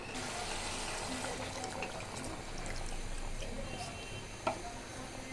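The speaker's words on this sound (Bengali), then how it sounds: "মুরগি কষানোটা হয়ে গেছে এখন পরিমাণ মতো পানি দিয়ে দিব" Water being poured into a pan of chicken cooking with tomato, a steady broadband wash of liquid over about five seconds, fairly close, with a brief knock near the end.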